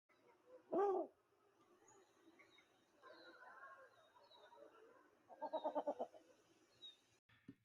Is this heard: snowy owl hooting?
yes